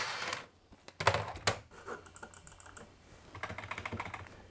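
An iMac G3 keyboard clatters as keys are typed in short irregular bursts, close and moderately loud with pauses between clusters of keystrokes.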